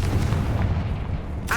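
A Confringo blasting spell explodes in the Hogwarts Legacy video game, a deep rumbling boom that rolls on with heavy low-end weight, then a sharp fresh burst at the end.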